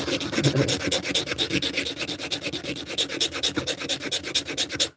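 A metal hand file rasps back and forth over a small metal handcuff shim in quick, regular strokes, loud and close, about five or six strokes per second with no talking.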